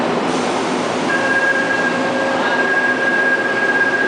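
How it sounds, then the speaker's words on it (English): Subway train in a Seoul metro station, a steady loud rumble of rail cars with a long, thin high squeal of wheels or brakes running through most of the stretch. "So you see the train coming from here to Yaksu to Gumo."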